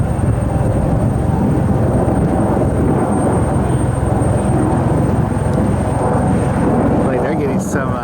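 American Eagle airliner flying over Cleveland Hopkins airport on a snowy day, a steady broadband jet roar holding loud and constant throughout with wind-like rumble.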